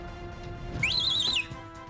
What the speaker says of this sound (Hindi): तो ऐसे सीटी मार के बुला लेंगे, ठीक है?